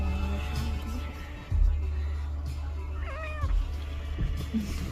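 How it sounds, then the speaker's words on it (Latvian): A cat gives a short, thin meow near the middle of a steady low rumble inside a moving Tesla, with a few faint bumps around it. "Kaķi"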